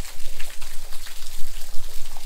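Rain pours steadily on a homestay near the Double Decker Living Root Bridge in North East India, a loud hissing wash of drops with rhythmic surging pulses.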